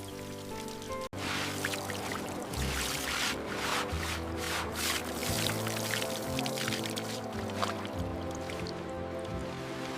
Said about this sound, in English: Bring the rinse hose over here, please.